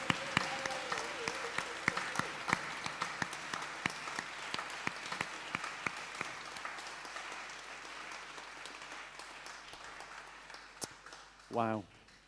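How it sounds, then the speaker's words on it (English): A church congregation applauds its youth team during a Sunday service, starting as a full round of clapping that thins into scattered individual claps and fades, with a voice speaking briefly near the end. "I'd like to give a round of applause for our team"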